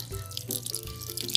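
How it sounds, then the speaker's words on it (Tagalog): Water is poured over mung bean sprouts, producing a short run of splashing and trickling that stays close and moderately loud. "So, diligan natin ng tubig"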